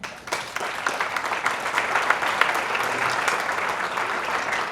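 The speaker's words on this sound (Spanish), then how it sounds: "un aplauso para Geraldo" A church congregation applauds a young man named Geraldo, a broad, steady roar of many hands that swells quickly after a soft start and holds at an even level in a reverberant room.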